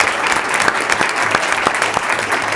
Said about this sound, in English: If we can give them a round of applause as well.